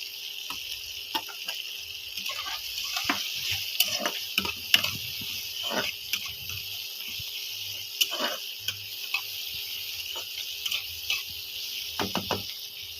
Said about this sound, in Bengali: এবার ক্যাপসিকাম ভাজা আর পেঁয়াজ ভাজাটা দিয়ে দেবো।